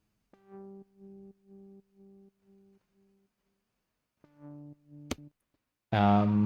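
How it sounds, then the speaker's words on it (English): A bass line layer in a kick and bass mix plays the seventh above the root notes as a run of short, clean sustained synth notes, then a brief repeat, a click and a louder burst at the end. "bass layer where we have the bass line playing the seventh above the"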